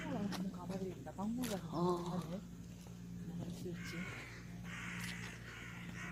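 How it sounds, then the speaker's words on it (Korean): A crow caws a few times in quick succession at Samyeong Daesa Park near Jikjisa temple in Gimcheon, the harsh calls mixed with nearby people talking and followed by quieter outdoor ambience. "저것도 까마귀 아니야?"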